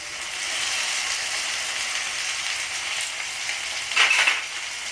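Ginger garlic paste and chili paste fry in a pan for Bengali-style kochur loti with prawns, a steady bright sizzle with a brief louder stir or scrape near the end and no talk.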